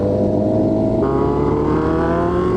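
Kawasaki Z1 motorcycle revved hard on a group breakfast ride, a loud, close, continuous engine roar that jumps up in pitch midway and holds at higher revs.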